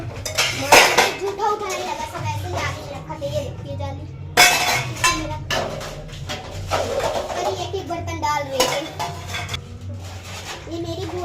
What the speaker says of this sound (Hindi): वो एक एक बर्तन डाल रही है तो मैं धुल रही हूँ।